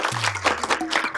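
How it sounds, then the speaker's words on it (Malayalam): An audience at an educational institution's stage event claps in a dense, sustained burst of applause, loud and close for about a second, with a low hum running underneath. "നല്ലൊരു കൈയടി കൊടുക്കുക"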